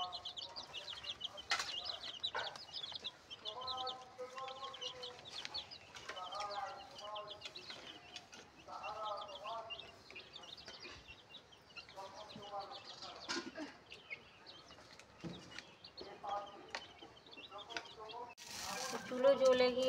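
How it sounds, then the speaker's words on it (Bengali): Chickens cluck and squawk while being fed in a home yard, with repeated close clucks and calls, a brief flap of wings near the end, and people talking softly in the background. "এখানে মুরগিদের খাবার দিচ্ছে"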